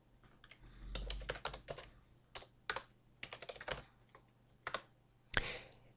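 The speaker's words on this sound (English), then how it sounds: "type in your details into the boxes provided" Details being typed on a computer keyboard in quick irregular bursts of clicky keystrokes, close and quiet, with short pauses between runs and no talking.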